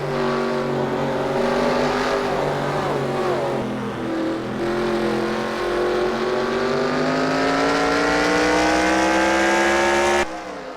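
Race cars accelerate hard out of the infield section of the Charlotte Roval road course at Charlotte Motor Speedway, their loud engine notes climbing steadily in pitch and layered together, ending with a sudden drop.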